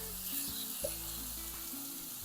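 Meatballs sizzle steadily in a pan over high heat, a loud continuous crackling hiss with faint low clinks underneath and no talking.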